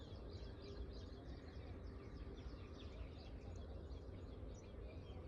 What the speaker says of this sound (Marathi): चिमण्यांचा आणि त्याचा आवाज येतो